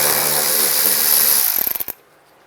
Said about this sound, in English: Take this bolt out. This is a 10mm socket.